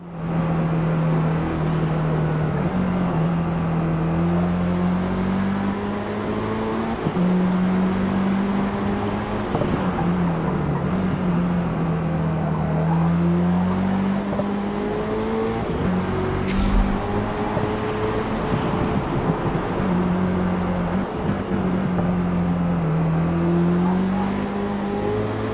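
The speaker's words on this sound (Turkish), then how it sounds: "Abi motor sesi çok iyi bu arada." A race car engine in the Forza Motorsport video game drones steadily and loudly, its pitch rising with each gear and dropping at each shift in a repeating cycle of acceleration and gear changes.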